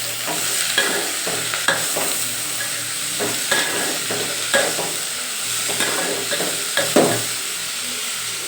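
Vegetables sizzle steadily in hot oil for vegetable pulao while a spoon stirs them in regular scraping strokes against the pan, close and clear with no voices.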